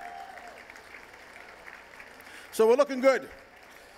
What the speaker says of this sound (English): give a round of applause for all the folks who've been supporting this event.